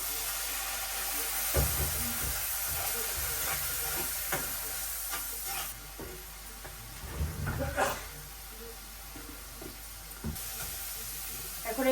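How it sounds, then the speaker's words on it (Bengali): Turmeric and red chili spices fry in a pan with a moderate sizzle and hiss. Utensil scrapes and knocks recur as the mixture is stirred. "মশলাটা কষাই নেই"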